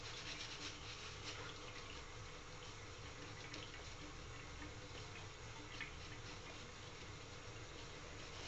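Hot water runs steadily from a tap during wet shaving, a constant soft rushing hiss without pauses or talk.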